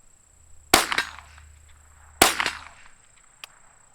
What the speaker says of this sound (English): you're going to pull back on this handle and then let it go